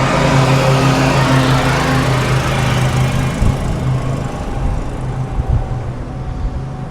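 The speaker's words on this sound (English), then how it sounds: "now that we made it away from that noisy lawnmower" A loud, steady lawn mower engine drones nearby in a Florida retirement neighbourhood, its continuous buzzing hum filling the whole stretch and easing slightly toward the end, with no talking over it.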